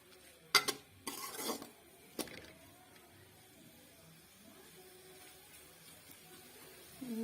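A spatula clatters and scrapes through a chicken spaghetti mixture in a pan. There are a few sharp knocks and a longer stirring burst early on, then a quiet low simmer with occasional faint scrapes.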